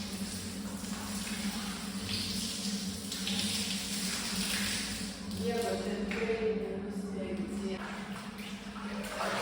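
Warm water runs steadily from a tap during a visit to a bathhouse in Georgia, a continuous soft splashing stream close by, with voices talking over it.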